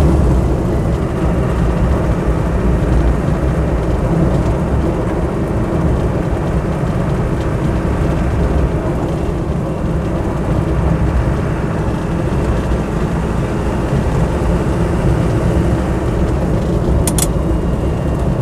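A Land Rover 90 County Station Wagon with a 200TDi diesel engine pulls hard under acceleration on a summer road, a loud, steady low drone with broadband wind and road rush throughout and no talk.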